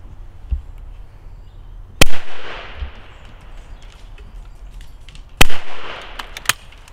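Two sharp, loud shotgun reports from a Miroku MK38 Sporter over-and-under firing Fiocchi F Black 28 gram cartridges at clay targets, spaced a few seconds apart, each with a short outdoor echo tail.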